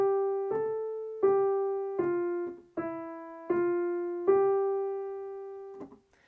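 Piano notes played alone in two short slurred phrases, each group of tones connected smoothly, with a slight gap between the end of the first bar and the start of the second, fading at the end.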